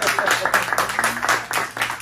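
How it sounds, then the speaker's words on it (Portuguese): A small audience claps after a short poetry reading, giving a brief burst of scattered, uneven claps that are close and moderately loud, with voices mixed in. "Palmas pra gente, né?"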